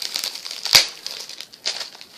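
Adhesive tape is peeled off a homemade toothpaste-and-salt slime container, giving close crinkling rips, with one sharp tear near the start and another shortly after.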